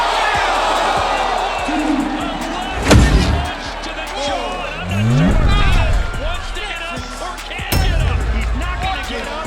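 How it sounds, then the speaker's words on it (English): An arena crowd at a boxing match, a loud continuous roar of cheering and applause, punctuated by sharp slams and whoops, with voices talking over the din. "A round of applause for the Argentine."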